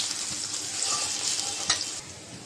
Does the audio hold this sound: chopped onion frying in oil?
yes